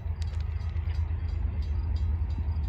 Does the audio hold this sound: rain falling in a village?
no